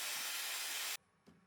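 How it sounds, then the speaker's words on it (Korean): A hair dryer blows steadily as a man dries his hair in the morning, a loud airy hiss that cuts off abruptly after about a second, followed by a faint clunk. "이렇게 헤어드라이기로 머리를 정리해줍니다"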